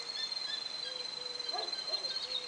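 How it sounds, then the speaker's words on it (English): Faint bird calls, a few soft chirps and a thin sustained whistle, over a quiet outdoor background with a steady high insect drone. "watching these birds and listening to them"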